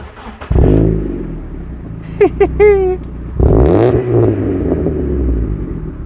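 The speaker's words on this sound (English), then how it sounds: "The exhaust is particularly silly, so let's start the engine." A 1997 Hyundai Lantra 2.0 GSi engine cranks and fires with a loud, blaring exhaust, then rises in a couple of revs and settles into a rumbling, burbling idle close by.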